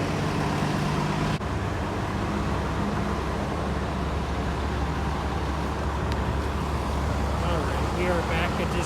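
A bus rides toward Disney Springs at Walt Disney World, its engine and road noise forming a steady low rumble throughout, with a brief shift early on and people talking over it.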